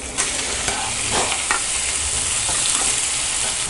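Onion and tomato sautéing in a pan for a Tamil raw plantain curry, a steady close sizzle with light stirring scrapes throughout, no voices.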